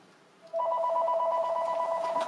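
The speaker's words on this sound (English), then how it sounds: "Let me answer the phone first." A telephone gives a steady two-tone electronic ring in a quiet indoor room, starting abruptly after a moment of near silence and sounding continuously at close range.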